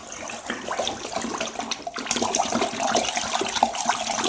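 Liquid soap base poured into a container and stirred, giving a splashy, gurgling stream that swells midway and continues with sloshing, at moderate volume and with no talking.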